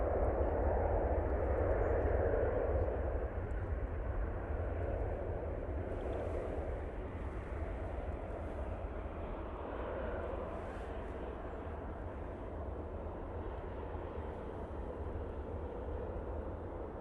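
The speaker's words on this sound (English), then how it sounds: "Very nice arrival from that Ryanair." A Ryanair passenger jet arrives at Manchester Airport with a steady, broad roar that swells early and then holds at a constant level, with no talking.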